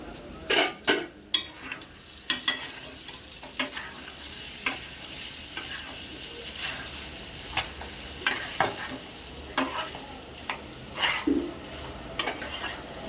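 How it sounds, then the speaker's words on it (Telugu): Goat tripe (botti) frying in a pan with a steady sizzle, punctuated by sharp scrapes and clinks of a spatula stirring against the metal, fairly close and with no voices. "బాగా ఫ్రై అవ్వాలి ఫ్రెండ్స్. బాగా ఫ్రై అవుతుంది ఉంటుంది."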